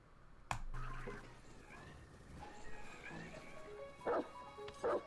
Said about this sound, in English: Dog wants to be taken out.